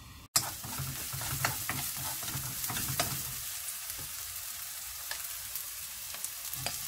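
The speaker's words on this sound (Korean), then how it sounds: "팬에 식용유 조금 두르고 볶아줍니다." Sweet potato stems stir-fried in a little cooking oil in a pan, giving a steady, close, loud sizzle with scattered scraping and clicking stir strokes throughout.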